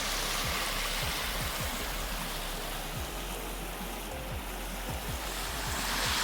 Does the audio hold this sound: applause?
no